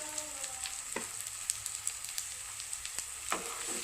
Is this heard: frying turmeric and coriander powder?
yes